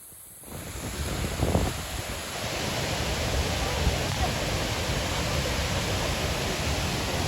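A forceful waterfall roars as a dense, constant rush of water that swells after the first half second and stays loud throughout, with some wind buffeting on the microphone.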